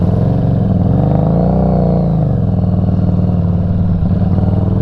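A 2021 Harley-Davidson Street 500 motorcycle engine idling with a loud, close, throbbing low rumble that swells briefly in a rev before settling back to a steady pulsing idle.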